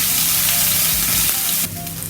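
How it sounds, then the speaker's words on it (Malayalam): Ginger paste and garlic paste sautéing in hot oil for a brinjal fry masala, a steady close sizzle and crackle throughout, softening slightly near the end. "ഒരു 1/2 ടീസ്പൂൺ ഇഞ്ചി പേസ്റ്റ്, ഇനി കുറച്ച് ഗാർലിക് പേസ്റ്റ്. നന്നായി വഴറ്റിയെടുക്കാം."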